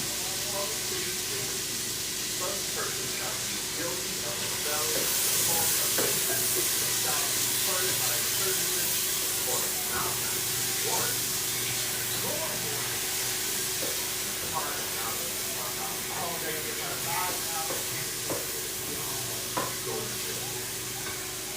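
Sausage sizzling with peppers and onions in a frying pan, a steady fry hiss with scattered stirring scrapes and clinks, with faint talk in the background.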